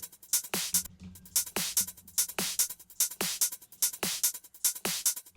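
A dry, punchy sampled drum pattern plays alone, sharp snare hits and thuddy tom strikes in a steady repeating rhythm, close and fairly loud.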